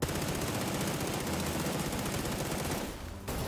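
Machine gun fire in a shooter video game rattles out as a loud, sustained burst of rapid shots that breaks off briefly near the end before resuming.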